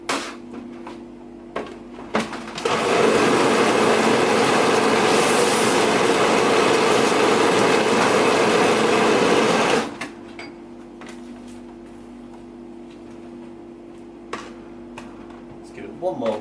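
A blender whizzes batter made with semi-skimmed milk, a loud steady whirring motor for about seven seconds, framed by kitchen clatter and light handling noises before and after.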